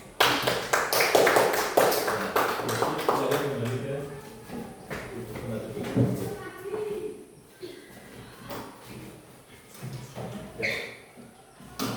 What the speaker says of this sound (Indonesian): berikan tepuk tangan dulu untuk kelompok ini